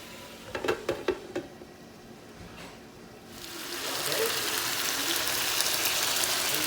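Red skin potatoes sautéing in a pan over medium heat. A few sharp utensil clacks and scrapes come first, then a steady close sizzle swells and holds to the end.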